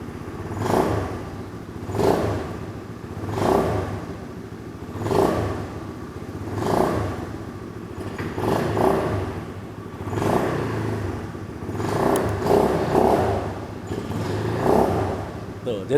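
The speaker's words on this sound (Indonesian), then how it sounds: "Kita coba geber-geber ya, kira-kira motor kalau halus gini digeber suara gimana?" Modified Honda Spacy scooter fitted with a quiet custom exhaust, revved repeatedly in short, evenly spaced bursts of a low, muffled engine note, close by with no talk over it.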